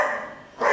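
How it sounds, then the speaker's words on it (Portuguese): A pet dog barks indoors, giving a short close yelp that fades and then a second louder bark at the end. "E o Ismael sempre latindo"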